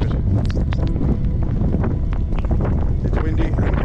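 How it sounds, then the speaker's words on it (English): Strong wind buffets the microphone outdoors in cold, windy Lapland at Christmas, a steady loud rumbling roar with gusty bursts throughout. "It's windy and cold."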